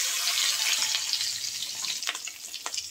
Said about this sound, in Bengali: এবার ডিমগুলি ভেজে নেব। বেশি ভাজবো না